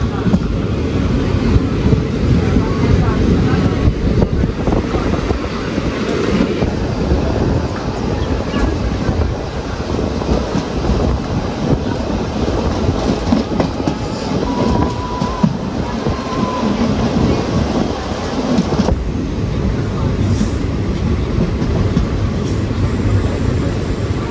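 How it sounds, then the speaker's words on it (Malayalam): A train departing Edakkad railway station in Kannur, heard from on board as a loud, continuous rumble and rattle of wheels on rails with clickety-clack over about twenty seconds. "നമ്മൾ എടക്കാട് റെയിൽവേ സ്റ്റേഷനിൽ എത്തിയിട്ട് ഡിപ്പാർട്ടായേ."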